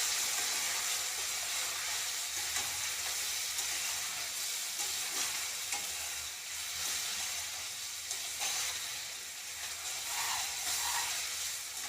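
A tomato and boiled quail egg curry simmers in a pan while being stirred, a soft continuous sizzle and hiss with faint occasional scraping, moderately quiet and steady throughout, with no voices.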